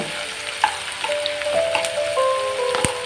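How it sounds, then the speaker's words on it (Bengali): Chicken fries with whole garlic cloves in a pan, making a steady, close, crackling sizzle with scattered pops throughout. "ভেজে নেব"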